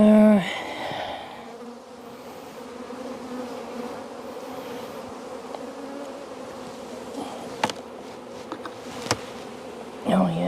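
Honeybees buzz around an opened beehive during a hive split for swarm control, a steady close drone with individual bees zipping past, a few brief knocks and handling sounds near the end.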